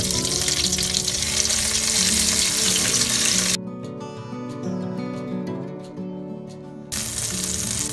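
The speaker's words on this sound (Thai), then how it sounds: "ให้น้ำมันร้อนนิดๆนะแล้วเราก็ใส่ พริกแกงแดงไปผัดให้หอมก่อนนะครับ" Oil sizzles and crackles steadily as red curry paste fries in a pan, with a brief quieter stretch of softer frying in the middle.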